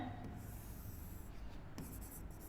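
Pen or chalk writing out math working during a lesson on real numbers, faint scratchy strokes in short bursts with brief pauses, quiet and close.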